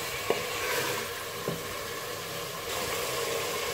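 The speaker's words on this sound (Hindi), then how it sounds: "इसको 1 से 2 मिनट तक भूनेंगे अदरक लहसुन के साथ गोश्त को" Mutton frying with ginger-garlic paste in a pot gives a steady, moderate sizzle, broken by a couple of faint clinks from stirring, with no talk.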